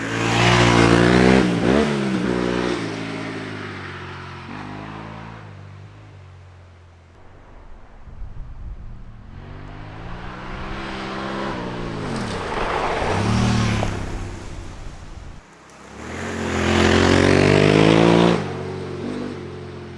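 Motorcycle fitted with a Mivv Dakar high exhaust revs in a forest, loud throttle blips rising and falling in three main bursts with a quieter idle between them, no voices.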